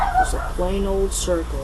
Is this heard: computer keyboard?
no